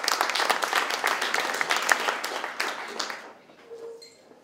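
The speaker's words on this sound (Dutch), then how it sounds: "ik wil graag een applaus voor Thijs en Rob." Audience applause at a Dutch political café evening, dense clapping for about three seconds before thinning out and fading into near silence.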